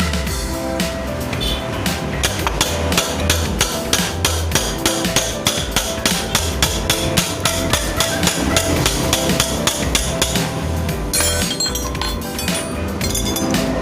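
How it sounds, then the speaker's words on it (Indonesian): Rhythmic metallic hammer blows with a wrench on the welded gearbox bearing of an old Honda Beat scooter, sharp ringing clinks repeating steadily about twice a second, loud and close with no talk. "setelah kita las, lalu pakai kunci Inggris sama palu"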